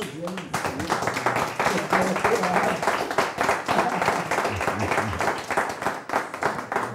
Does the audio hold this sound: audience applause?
yes